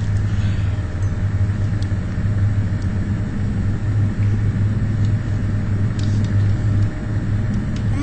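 An airplane engine roars through take-off on a beach runway in a flight simulator game, a steady loud drone with a deep hum that holds throughout, no voices.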